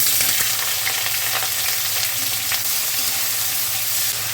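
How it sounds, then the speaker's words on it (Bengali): Onion and nigella seeds fry in hot mustard oil in a pan, giving a loud, steady, close sizzle that never lets up. "তাতে আমি সর্ষের তেল দিচ্ছি, কালো জিরে ফোড়ন দিচ্ছি, জন্য পেঁয়াজ দিচ্ছি,"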